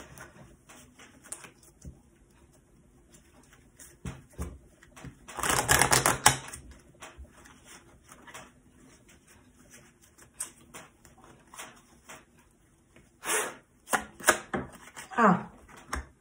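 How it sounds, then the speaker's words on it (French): Oracle cards being shuffled by hand, with bursts of papery riffling and flicking at close range, the loudest flurry mid-way and more toward the end, separated by quieter handling. "Je vais brasser mon oracle."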